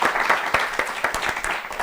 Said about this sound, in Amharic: ለሳሮን አጨብጭቡላት እስቲ